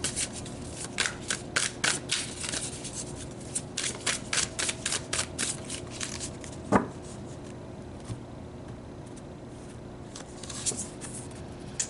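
Tarot cards shuffled and drawn from the deck, a run of quick papery flicks and riffles close by, quiet and dry, with one sharper slap midway and sparse soft handling noises afterward.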